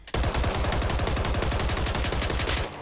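Sustained fully automatic gunfire from a weapon in the video game Back 4 Blood, a loud, rapid, unbroken burst of shots lasting nearly three seconds before cutting off.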